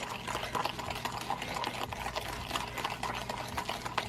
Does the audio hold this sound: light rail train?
no